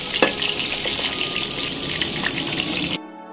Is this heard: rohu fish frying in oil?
yes